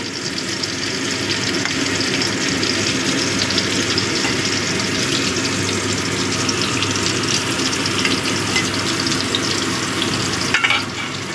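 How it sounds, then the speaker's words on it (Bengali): Cauliflower pieces fry steadily in hot oil in a pan, producing a loud, continuous, dense sizzle that runs unbroken throughout with no talking. "ফুলকপিটা একটু লাল করে ভেজে নেব।"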